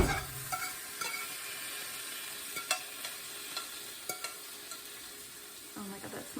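Lobster meat frying with garlic in a hot pan gives a steady, close sizzle with a few light clinks of a spoon stirring through it; no one speaks.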